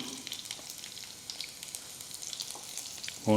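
Dried red chillies and garlic frying in a pan for a spicy moringa leaf stir-fry, with a soft, even sizzle and scattered light crackles and pops, then a brief louder clatter at the very end.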